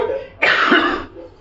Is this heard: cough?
yes